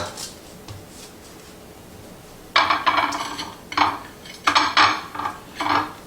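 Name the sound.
pan of buffalo ranch chicken put back into the oven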